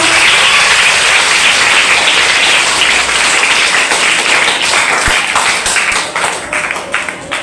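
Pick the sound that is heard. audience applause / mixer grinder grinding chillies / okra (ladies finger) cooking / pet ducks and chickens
audience applause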